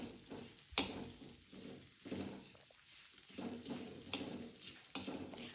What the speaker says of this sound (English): Add half cup of vermicelli and fry well until golden color.